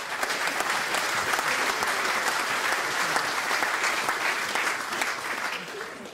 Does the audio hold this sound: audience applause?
yes